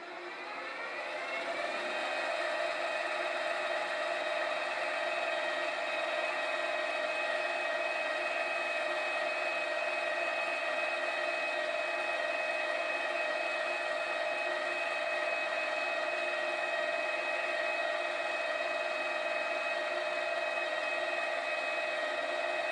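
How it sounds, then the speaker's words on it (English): A 3 mm drill bit bores into a metal workpiece on a machine, giving a steady, loud, high whir that starts with a brief spin-up and then holds unbroken throughout with no voices. "now I need to drill with this 3 millimeter drill bit and then ream to 1/8 of an inch"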